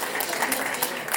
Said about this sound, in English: another round of applause for my wife